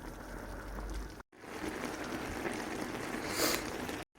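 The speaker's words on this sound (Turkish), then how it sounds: "Evet arkadaşlar kaynamaya başladı artık." A fig dessert mixture boils in a pot with a steady, close bubbling hiss, continuous apart from two brief dropouts, with no voices.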